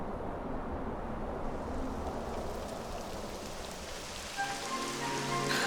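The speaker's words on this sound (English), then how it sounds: "It would have to go and start raining, wouldn't it?" Rain pours steadily in the video game Dragon Quest 11 S, a dense, even hiss of drops on surfaces that holds throughout, with a faint tonal sound entering near the end.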